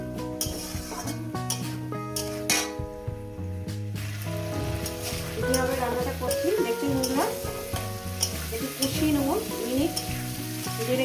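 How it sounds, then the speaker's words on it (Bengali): Spinach and potato being stir-fried with small mourala fish, a sizzling pan with repeated clanks and scrapes of a spatula against metal, while a voice talks faintly in the background. "এক থেকে দেড় মিনিট এটাকে কষিয়ে নেব"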